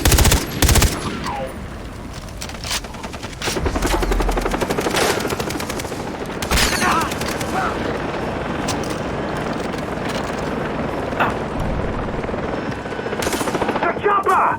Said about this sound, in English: The chopper! Shoot it down!